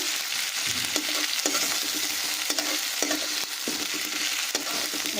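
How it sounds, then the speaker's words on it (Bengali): Spice paste and onions for a prawn and drumstick chorchori fry loudly in a pan, a dense continuous sizzle cut by repeated stirring scrapes at a steady, unhurried pace. "এবার মশলাটাকে খুব ভালোভাবে কষিয়ে নিচ্ছি"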